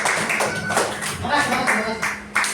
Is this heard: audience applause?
yes